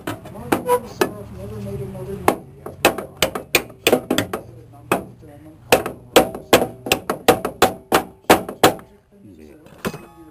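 A hammer taps a hinge pin into a K5 truck door with a rapid string of sharp metallic strikes, in irregular bursts with short pauses, loud and close over roughly ten seconds.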